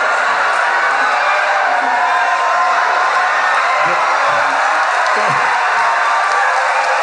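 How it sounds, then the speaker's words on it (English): A live comedy podcast audience at a festival bursts into sustained applause mixed with cheering and whoops, a dense, loud crowd roar filling the whole stretch without pause. "This is the most applause you've ever gotten"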